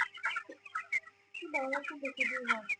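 Several 20-day-old chickens cluck and squawk close by in short, irregular bursts, busy and overlapping.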